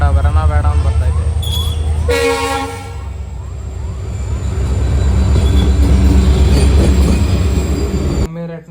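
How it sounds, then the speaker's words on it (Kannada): A train rolls past a closed railway crossing gate, its loud, steady rumble and rattling wagons filling the whole stretch, with faint wheel squeal and voices talking over it before it cuts off abruptly. "ರೈಲ್ವೆ ಗೇಟ್ ಹಾಕಿತ್ತು ನೋಡ್ರಿ. ಟ್ರೈನ್ ಬರ್ತಾ ಇದೆ."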